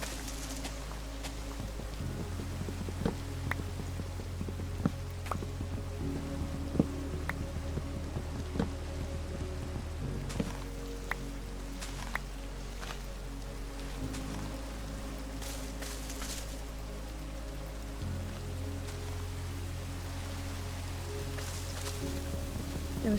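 Rain falls in the Minecraft video game as a soft, steady patter and hiss, faint and continuous, with scattered light ticks and game sounds over a low background hum.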